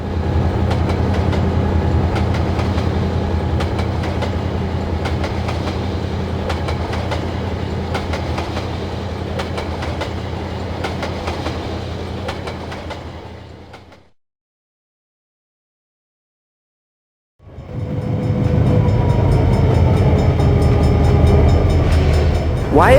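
A model train in a rail yard rumbles steadily along the rails with rhythmic clacking, cuts to silence for a few seconds, then the loud rolling returns.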